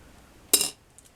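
Victorian black glass mourning buttons clink together while being handled: one short, bright rattle of small glassy contacts, followed by a faint tiny tick.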